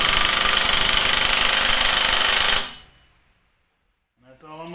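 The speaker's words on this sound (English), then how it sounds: "I'm going to impact it on here and call it quits," Impact wrench fastening the rear clutch on a Club Car DS golf cart: a loud, continuous hammering rattle for over two seconds that cuts off into silence, then a brief voice.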